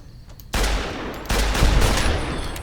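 Gunfire in Fallout New Vegas: a sudden loud burst of shots starts after a short quiet lead-in, and a second heavy volley joins partway through, keeping a dense, continuous barrage of firing to the end.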